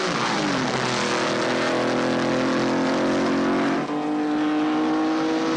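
Racing cars of a 1960 motor race roar away from the start, led by Stirling Moss ahead of Jack Brabham and Bruce McLaren, a loud continuous engine howl with rising pitch as they accelerate and pass.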